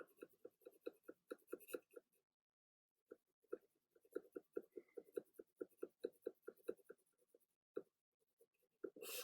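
Graphite HB pencil shading on paper: a close series of quick, rhythmic scratchy strokes in bursts, with a short pause partway and no talking.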